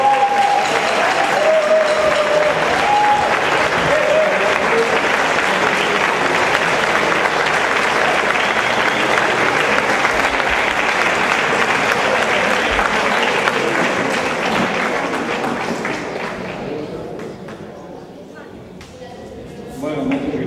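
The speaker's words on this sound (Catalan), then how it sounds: "Un fort aplaudiment." Loud, sustained applause from a large audience at a choir's 25th anniversary celebration and choir gathering, steady and full for about fifteen seconds before thinning out and fading, with a brief pickup at the end.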